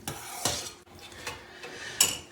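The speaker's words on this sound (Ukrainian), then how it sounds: "помішуємо, доводимо наш сироп до кипіння" A spoon clinks and scrapes against a pot while stirring sugar syrup heated toward a boil for an Easter glaze, with a few sharp metallic taps spaced through a quiet kitchen background.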